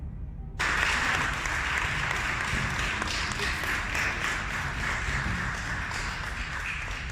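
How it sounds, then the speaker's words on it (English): Soundboard applause effect played during a Star Wars: Knights of the Old Republic let's play, a sudden start of thick, loud crowd clapping and cheering that holds steady for several seconds. "just please applaud me."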